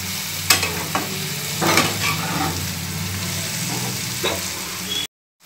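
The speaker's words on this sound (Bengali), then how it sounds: "দেখে নিন আমাদের মশলাগুলো ভালো করে মিক্স করা হয়ে গেছে" Chicken curry masala and spices stirred and frying in a pan for veg biryani: a steady low sizzle broken by several sharp scrapes of the spoon against the pan, close by, ending in abrupt silence.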